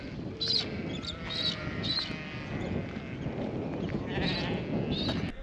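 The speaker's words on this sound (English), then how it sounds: "Well, I guess we found where the sheep hang out." Sheep bleat repeatedly at a farm dam, several overlapping calls at mid distance over a steady outdoor background of wind and ambient rumble, with no talk.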